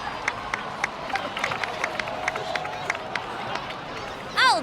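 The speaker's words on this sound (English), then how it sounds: "please give another round of applause for them" Crowd in the video game Genshin Impact cheering and clapping, a steady busy roar with scattered sharp claps and shouts, ending in a brief louder swell.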